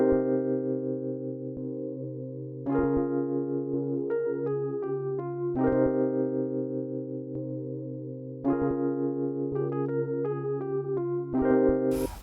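Layered, chopped electric piano chords play in a repeating pattern for a soul sample, sustained notes with short plucked accents, clean and up close with no voices.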